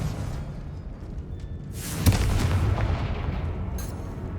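A Confringo fire spell from Hogwarts Legacy on PS5 goes off as a sudden whooshing burst followed by a rumbling blast, with sharp cracks and a low roar that lingers under a continuous game-ambience bed.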